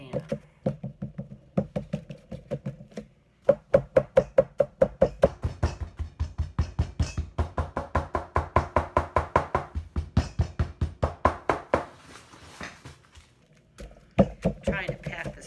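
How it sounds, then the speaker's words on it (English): Shortbread cookie dough is pressed firmly into a pan in a rapid, steady series of dull knocks and taps, close and fairly loud, with a pause near the end. "Trying to pack this firmly because I don't want the cookie part to crumble or break apart"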